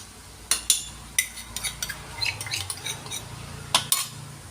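A utensil scrapes and clinks against a pan while chili powder is stirred into fried onions, with irregular taps and scrapes over a faint, low background hum.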